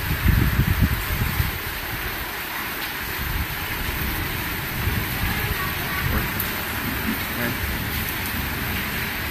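Steady wind buffeting close by during a storm in Athens, a low rumbling roar with gusty bursts that stays constant throughout.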